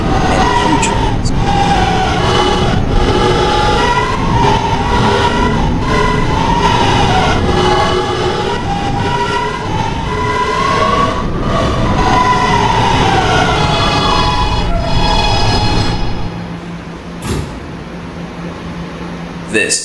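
A Roblox subway game R train rumbles and whines along the tracks, with shifting tones rising and falling before the noise drops away near the end.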